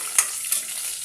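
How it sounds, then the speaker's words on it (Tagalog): Tuna fries in hot oil, a bright continuous sizzle with two quick sharper spits early on, close and steady with no talking. "Prito na tuna yan."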